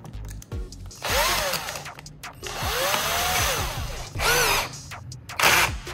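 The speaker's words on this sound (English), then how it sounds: "Just pop the bolt into a drill and gently grind one end down to make it smaller." A power drill grinds down the end of a bolt, whining in several bursts, its pitch rising and falling as it bites, with brief pauses between runs; loud and close.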